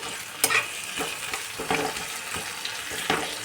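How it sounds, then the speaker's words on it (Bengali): Tomatoes frying over low heat in a pan, a continuous soft sizzle broken by regular scraping stirs, close up and with no talking. "টমেটোটা হালকা ভাজা হয়ে গেলে, মানে টমেটোটা নরম হয়ে গেলেই আমি এই মশলাটা দিয়ে দেবো।"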